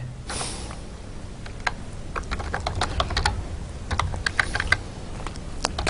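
Keys clatter steadily on a computer keyboard as code is typed, a close run of quick irregular clicks with brief pauses and no talk.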